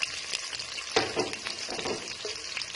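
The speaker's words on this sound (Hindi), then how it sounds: "तो यहाँ पे मैंने एक कढ़ाई के अंदर 1/2 कप ऑयल ऐड कर दिया, तो अब मैं इसके अंदर प्याज ऐड कर देती हूँ" Onions fry in half a cup of oil in a kadhai, giving a close, continuous crackling sizzle with brief louder stirring bursts near the start and middle, and no voices.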